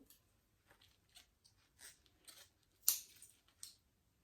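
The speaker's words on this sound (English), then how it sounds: "So I'm going to cut that off as well." Scissors snip leaves off a kalanchoe plant being pruned, several faint, close clipping and rustling sounds scattered unevenly, with one sharper cut near the end.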